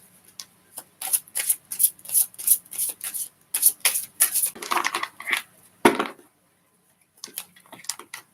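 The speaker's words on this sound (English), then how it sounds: "Give me just a second to shuffle the deck." A deck of cards is shuffled for a card reading in a quick series of crisp riffling bursts. A short pause follows, then a few softer shuffles, all close and with no voices.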